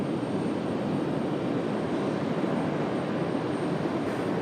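A Breeze Airways jet taxis at Raleigh-Durham airport, its engines giving a constant broadband roar that stays loud and even throughout, with no talking.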